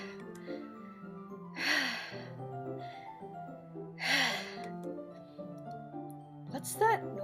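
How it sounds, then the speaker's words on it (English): Deep, heavy breathing from around a corner in the visual novel Doki Doki Literature Club: two slow, drawn breaths a couple of seconds apart, then a short sharp intake, over soft background music. "It sounds like breathing."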